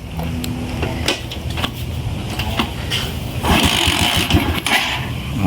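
An engine being started after a flood, a rough mechanical sputter that swells louder partway through, with no talk over it.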